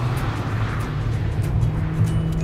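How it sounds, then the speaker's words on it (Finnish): A Toyota Yaris engine runs at sustained high revs, heard from inside the car as a loud, steady droning hum with no speech. "ensimmäisenä huomio kiinnittyy kovaa huutavaan moottoriin"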